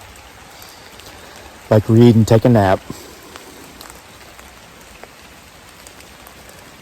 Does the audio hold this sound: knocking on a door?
no